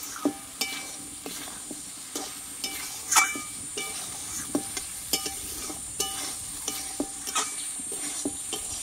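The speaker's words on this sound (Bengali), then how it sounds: "আমি মশলাটা ভালোভাবে কষিয়ে নিয়েছি" Masala for a vegetarian ridge gourd curry is stir-fried in a pan, giving a soft, steady sizzle punctuated by light, regular taps and scrapes of a spatula, fairly quiet and close.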